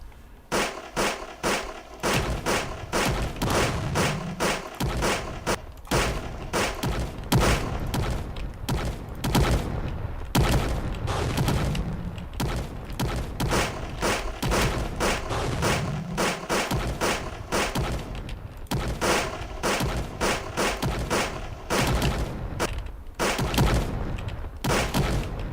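Anti-tank guns fire in a video game, a dense, continuous barrage of loud thumps and booming blasts in rapid succession for the whole stretch, with no voices.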